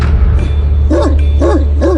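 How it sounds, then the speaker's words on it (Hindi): Dogs barking while chasing, as a story sound effect: three sharp, evenly spaced barks over a loud, constant low rumble. "वो कुत्ते उनका पीछा कर रहे थे।"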